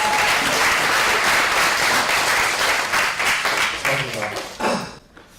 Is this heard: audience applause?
yes